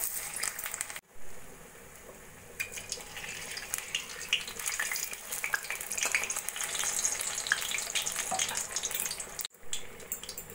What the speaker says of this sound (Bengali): আমি আলু টিকিগুলো ভেজে নেব।